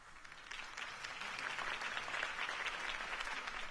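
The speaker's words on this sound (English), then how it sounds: "could have heard that applause" Steady applause from a crowd in Batman: The Telltale Series, dense clapping that swells slightly in the middle and holds throughout, with no voices on top.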